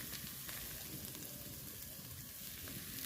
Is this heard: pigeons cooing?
no